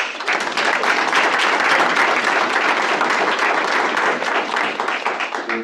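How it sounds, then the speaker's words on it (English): A roomful of attendees at a stakeholder meeting breaks into sustained, even applause for a speaker, dense steady clapping that holds at full strength for several seconds before starting to thin out. "let's give him a round of applause"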